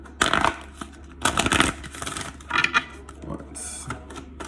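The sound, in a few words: shuffling a tarot card deck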